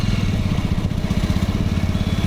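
A motorcycle rides along a road near Karjat, its engine chugging steadily and close by with a rapid, even pulse and no talk.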